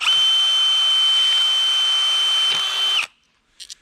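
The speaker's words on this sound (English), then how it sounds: "and then you drill and it splits it" An electric drill fitted with a splitter attachment drives into firewood to break it into small kindling splits. It gives a loud, steady high whine for about three seconds, then cuts off and leaves a few faint clatters.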